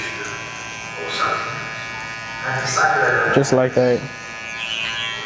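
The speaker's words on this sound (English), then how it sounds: "this clipper is very, very good. The trimmer is very, very good because it's so small and like compact" A small, compact electric hair trimmer buzzes steadily during a low taper haircut, rising and pulsing as it works close to the head while someone talks over it.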